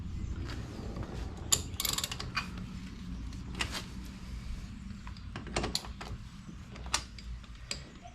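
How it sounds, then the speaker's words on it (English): Ratchet wrench with a 1/2-inch drive and 14mm socket loosening lug nuts on a Polaris RZR 170, giving quiet repeated clicking and creaking strokes close by, with no talking. "I'm taking a 1/2-inch socket with a 14mm socket, 1/2-inch drive with a 14mm socket to get these off"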